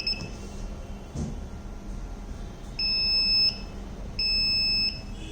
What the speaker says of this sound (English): after that the buzzer will be on and off 2 times